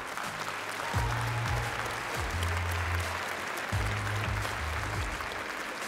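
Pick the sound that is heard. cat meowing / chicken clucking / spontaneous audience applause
spontaneous audience applause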